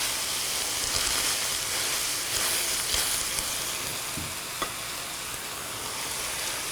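Coleslaw mix for chicken egg rolls cooking down in an oiled pan, giving a loud, steady, hissing sizzle throughout, with a few faint scrapes of stirring.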